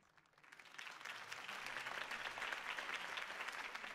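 Video game applause from a crowd, in Batman: The Telltale Series, swells up quickly and holds steady, a dense, even wash of clapping without voices.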